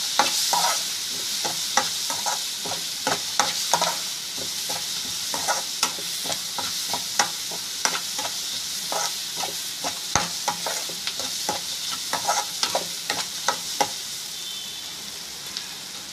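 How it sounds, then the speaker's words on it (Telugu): Snack mixture being stirred with coriander powder in a frying pan, a spoon scraping in quick irregular strokes over a steady close sizzle, with no talking. "ధనియాల పౌడర్ కొంచెం వేసుకొని బాగా కలిపేసుకోవాలి"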